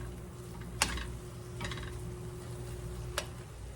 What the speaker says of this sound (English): Let me get it stirred up real quick